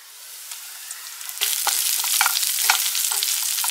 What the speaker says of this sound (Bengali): স্লাইসড পেঁয়াজটা অল্প ফ্রাই হয়ে গেলে এর মধ্যে আমি স্কেল অনিয়নও অ্যাড করে দিচ্ছি